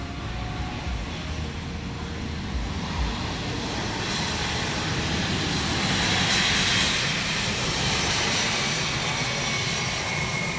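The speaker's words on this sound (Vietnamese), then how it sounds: "Chiếc máy bay đang nhanh chóng hạ cánh xuống đường băng 25 phải sân bay Tân Sơn Nhất." Air Cambodia Airbus A320 with IAE V2500 engines landing on runway 25R at Tan Son Nhat airport, a loud sustained jet roar with broadband rumble that swells and then holds steady, heard from nearby with no talking.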